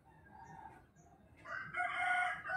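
A rooster crows nearby, one drawn-out call that swells loudly in its second half over a low background hum.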